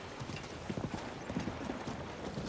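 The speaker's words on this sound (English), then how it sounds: "My horse isn't doing a very good job today of staying on path." A horse's hooves clip-clop at a walking pace in Zelda: Tears of the Kingdom, a close, uneven rhythm of soft thuds with no one talking.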